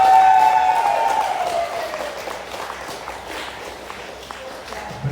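Applause from wedding guests that starts loud and gradually fades, with a sustained tone sliding downward at the beginning and scattered claps trailing off.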